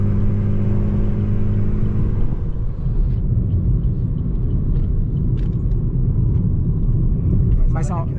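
Onix Turbo and Polo TSI Stage 2 cars accelerating in a race, a steady loud engine roar with a droning tone that gives way to broader rumbling, with faint voices talking over it.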